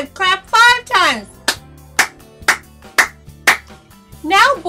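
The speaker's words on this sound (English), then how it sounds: "Now I want you to clap with me, boys and girls." Hands clap five times in a counting exercise for young children, sharp, loud, evenly spaced claps set between a speaking voice at the start and end.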